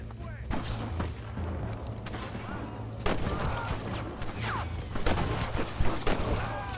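Repeated gunfire from Red Dead Redemption single-player combat against NPCs, a dense run of sharp shots and booms over a steady low game background, with some quiet speech-like sound in the mix.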